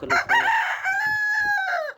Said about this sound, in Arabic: ودي الفراخ بتاعتنا